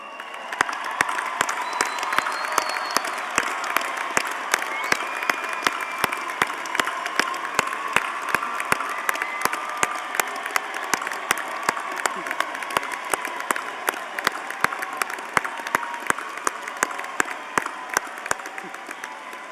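A large commencement crowd gives sustained applause for honors graduates at a Florida State College at Jacksonville ceremony, dense steady clapping with distinct sharp claps and light cheering throughout, in a big reverberant hall.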